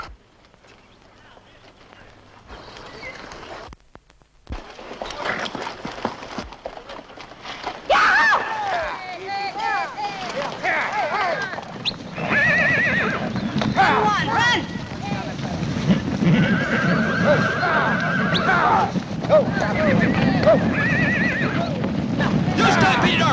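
Horses stampede in a 1954 Western, with repeated loud neighs and whinnies over rumbling hoofbeats and wind, building from quieter commotion to a dense, close clamor.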